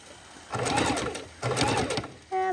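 A domestic sewing machine stitches a raw-edge appliqué on fabric in two short whirring bursts, each about a second long, followed by a brief mechanical click and whine at the end.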